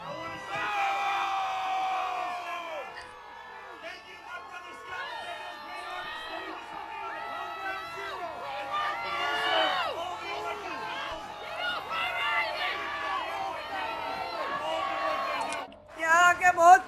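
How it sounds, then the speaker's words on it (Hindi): A dense crowd hoots, jeers and shouts at a speaker at an outdoor national day event in New York, with many overlapping voices that stay loud throughout and swell near the end. "बस इन हूटिंग की आवाज सुनिए। ये तो ऐतिहासिक है।"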